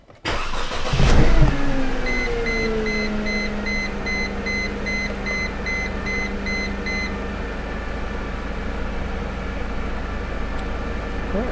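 Car engine idling steadily during a fuel pump test run from a scan tool, starting with a loud burst as it fires up, then settling into a constant hum with a repeating electronic beep pattern over it.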